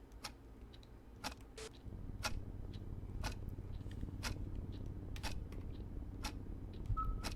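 A clock in the Rumpelstiltskin video game ticks in a steady, sharp rhythm, fairly close and distinct against a low background hum, with no voices over it.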